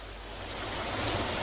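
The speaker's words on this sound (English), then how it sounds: "Should be the sound of like a roaring waterfall there." Roaring waterfall ambience on a game map, a steady broadband rush of falling water that swells slightly louder over the short stretch with no speech.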